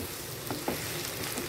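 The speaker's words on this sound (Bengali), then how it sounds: "আর একটুখানি ভেজে নেব" Onion and potato frying in a pan for potol dolma, a continuous close, loud sizzle with a couple of brief crackling pops, no voices.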